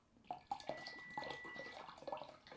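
Water pouring out of a container tipped onto its side during a live water experiment, a steady splashing trickle with a few sharper spatters, close and fairly quiet.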